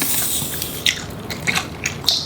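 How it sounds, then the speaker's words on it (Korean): Crunchy, freshly made spicy kimchi being bitten and chewed up close at a Korean home meal, a few crisp wet crunches and squishy bites scattered unevenly, with no talking. "아삭아삭해갖고 나는 갓당긴 김치가 너무 좋은 것 같아요"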